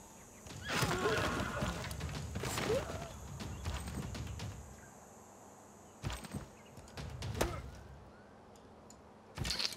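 A horse unit in Civilization 6 gives a loud whinny followed by clip-clopping hooves, with a few more short bursts of game sound effects afterward.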